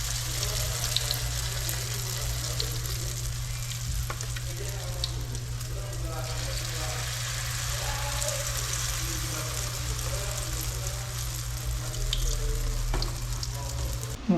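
Food sizzling and frying in a pan on a home stove, a steady crackling hiss throughout with a constant low hum beneath, faint background voices and small clatters.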